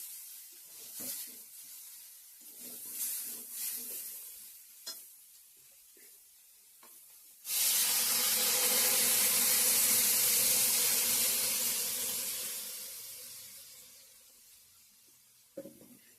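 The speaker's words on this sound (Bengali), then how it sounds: "সবজিটা জল এক করে দিয়ে দেবো গরম জল" Hot water pours into a pan of spiced, sautéed vegetables, bringing on a loud, sudden sizzling hiss that slowly fades, after quieter scraping and stirring clinks.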